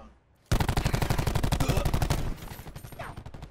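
The Matic gun in a video game fires a loud, rapid burst of close automatic shots lasting nearly two seconds, then fades into quieter echoing game sounds.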